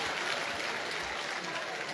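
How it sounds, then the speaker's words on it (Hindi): Audience applause at a live poetry gathering in Rudrapur. The clapping forms a dense, even wash of sound that stays at a fairly soft, distant level for the whole moment. "जरा जोरदार तालियां बजाकर"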